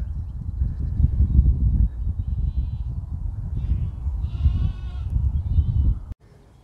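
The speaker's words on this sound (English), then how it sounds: "Lambs and sheep around." Sheep and lambs bleating in a Cotswolds field near Broadway Tower, several wavering calls from nearby animals over a low rumble of wind or handling noise, ending abruptly.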